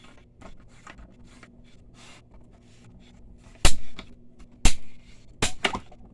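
Quiet scraping and handling, then several sharp, loud cracks spaced a second or so apart as material is cut through.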